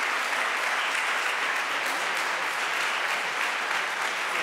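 Dense, sustained applause from an audience at a human rights award ceremony, steady and uniform throughout with no speech on top.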